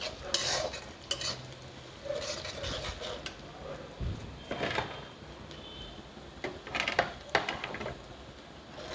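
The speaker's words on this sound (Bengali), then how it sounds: "এক চামচ মতো জিরে ফোড়ন দিয়ে দিলাম আর একটা শুকনো লঙ্কা কেটে কেটে ছোট ছোট করে একটা শুকনো লঙ্কা ফোড়ন দিলাম" Cumin seeds and chopped dried red chilli tempering in hot oil, a soft sizzle with scattered crackles and spoon scrapes against the pan, fairly faint and uneven, without talk.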